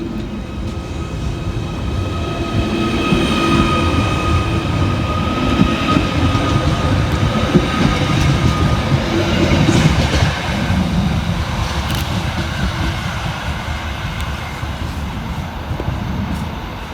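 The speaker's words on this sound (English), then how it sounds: "kicking us off is 777-022, working the 1449 Merseyrail electric service from Liverpool Central through to Ellesmere" A Merseyrail class 777 electric train pulls into Bebington station with a steady low rumble and faint whine. The sound stays continuous and fairly loud, with some light clatter, and no voices are heard.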